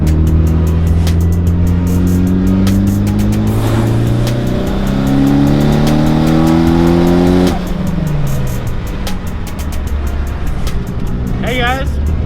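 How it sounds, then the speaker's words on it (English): Mitsubishi Evo pulling hard in third gear while holding boost, the engine note climbing steadily through rising revs, then a gear change and renewed climb, loud and close from inside the car. "let's go ahead and do a 3rd gear pull, a slight pull to see if it'll actually hold boost"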